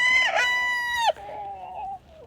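A rooster crows loudly and close inside a chicken house, one long harmonic call that breaks off into trailing clucks from the hens nearby, with no voices.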